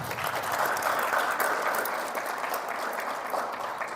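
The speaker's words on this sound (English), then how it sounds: "Please give a hand of applause." A crowd at a wrestling event claps steadily throughout, a dense, sustained round of applause that fades slightly toward the end.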